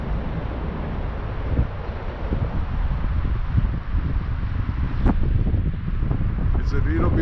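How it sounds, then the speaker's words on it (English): Wind buffets the microphone beside the Jeanne d'Arc Bridge on a river lined with moored barges, a loud, continuous gusty roar with rumbling low-end swells and a couple of sharp knocks. "It's a little bit windy here, next to the to Jeanne d'Arc Bridge."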